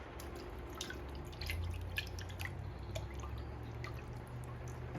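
Tomato sauce poured into a pot of beef stew, a soft steady dripping and trickling of liquid with faint low background hum, no talking.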